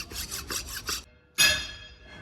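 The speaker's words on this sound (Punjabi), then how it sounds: "ਆਪਾਂ ਰੇਤੀ ਚੱਕ ਲਈ" A metal hand file works nicks out of straw reaper parts in a run of five quick rhythmic rasping strokes, a pause, then one longer, louder scrape that fades away.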